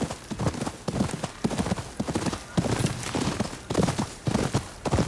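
A horse's hooves clip-clop in the video game Ghost of Yōtei, a steady, close rhythm of clustered hoofbeats that keeps up throughout, with no talking over it.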